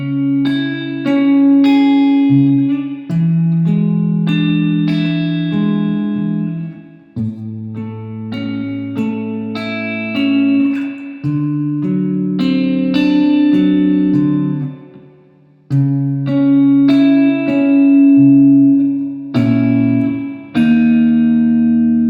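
Slow, clean arpeggiated guitar playing a song section, a steady sequence of ringing plucked notes and chords at moderate volume, close and alone without any voice.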